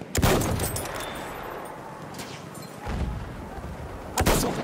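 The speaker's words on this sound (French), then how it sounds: "mitrailleuse" Machine-gun fire crackles in sharp loud bursts, with a strong volley at the start, lighter shots in the middle and another burst near the end, against a rumbling battle backdrop.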